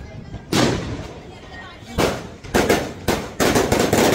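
Diwali firecrackers burst in a series of loud, sharp explosions, with several blasts coming in close succession over an ongoing noisy background.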